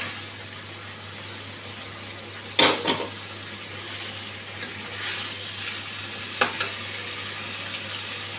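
Pabda fish go into a frying spice mix in a pan, bringing a steady low sizzle with a couple of sharp clatters as the pieces land, close and moderately quiet.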